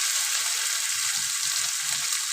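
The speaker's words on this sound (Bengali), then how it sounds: "ঘিটা হালকা করে আমি ভেজে নেব। চিংড়ি মাছটা আমাদের হালকা করে ভাজা হয়ে গেছে।" Prawns frying lightly in ghee for a mustard prawn dish, a dense, even hiss of sizzling fat filling the pan throughout, close and continuous with no talk.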